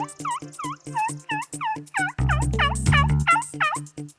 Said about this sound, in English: We heard a few different groups of toms or jakes, and they were gobbling back and forth